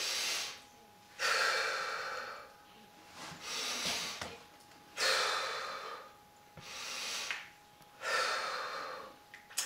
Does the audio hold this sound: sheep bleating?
no